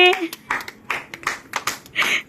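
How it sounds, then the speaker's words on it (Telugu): Children clapping during a game at a children's day gathering, a short run of uneven, separate hand claps close by, roughly seven or eight strikes, with a brief voice at the very start. "హర్షిని క్లాప్స్ కొట్టండి"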